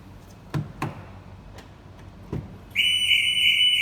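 A few soft clicks and taps, then an electronic alarm starts beeping steadily and loudly, a high pulsing tone that continues to the end.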